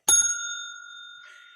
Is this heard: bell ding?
yes